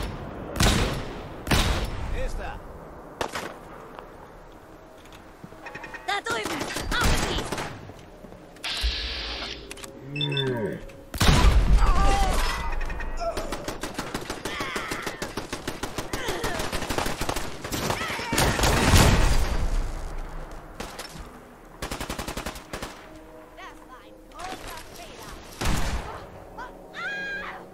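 Turret gunfire in the video game Fallout 4, bursts of rapid shots that come and go among explosions, mechanical whirs and other combat noise, with someone talking briefly at times.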